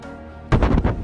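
The ammonium nitrate explosion at the port of Beirut arrives as a sudden, loud, rumbling blast that follows a steady background hum, with a booming roar that stays heavy to the end.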